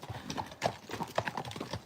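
Tennessee walking horses walk with a quick, irregular clip-clop of hooves, close and fairly quiet, with a few faint background murmurs.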